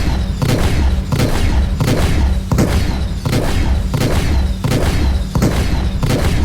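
Rapid ship cannon fire in a Star Citizen space battle, heavy repeated booms in a steady dense rhythm throughout, loud and continuous.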